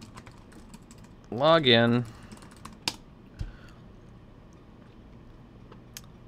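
A few sparse, crisp key clicks sound on a Mac computer keyboard while a code is entered, close by and fairly quiet, with someone briefly speaking just before them.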